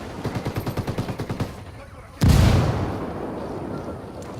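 A frag grenade detonates in the Ghost Recon Wildlands video game: one loud, booming explosion with a long rumbling decay, preceded by a steady run of rapid gunfire.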